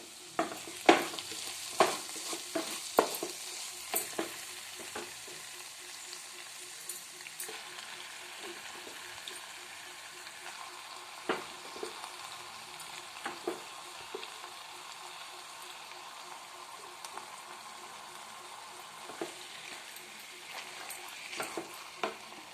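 Mutton pieces fry over a low flame in an open pot, a gentle sizzle broken by frequent clattering spoon strokes, busier at the start and then calmer.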